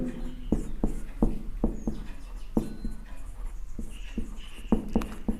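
Chalk or marker tapping and scratching on a classroom board while a point is written, a steady series of short sharp knocks spaced irregularly, fairly close, with no speech.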